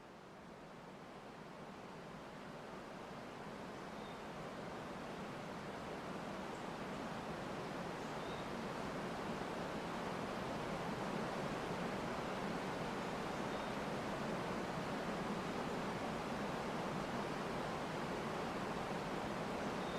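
A waterfall by a bridge rushes in a steady, broad roar that slowly swells in loudness and holds constant without a break.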